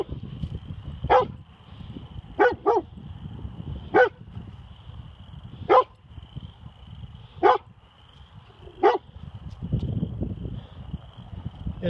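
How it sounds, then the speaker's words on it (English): A dog barks at a coyote outdoors, giving about eight sharp single barks spaced a second or two apart, some in quick pairs, over a steady low background rumble. "barking at a coyote"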